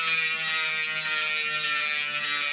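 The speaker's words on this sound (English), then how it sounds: "First one up, DT Swiss 240 with the new DEG 90 points of engagement free hub. Let's spin it." A DT Swiss 240 rear bicycle hub with a 90-point-engagement freehub spins freely, giving a fast, even, high-pitched buzzing ratchet whir, close and continuous throughout.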